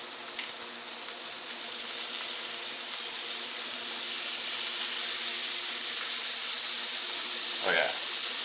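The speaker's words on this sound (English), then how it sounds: "I'm going to throw some more butter in there to get it more fried and get all that seasoning that fell off back in there." Chicken and ramen fry in butter in a pan, giving a loud, continuous bright sizzle that holds steady and grows slightly stronger halfway through.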